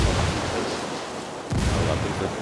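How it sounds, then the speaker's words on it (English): A mortar strike in the Ghost Recon video game booms and rumbles, a heavy low explosion that rolls on continuously with a fresh blast midway, loud and close, with no talk. "Call in mortar."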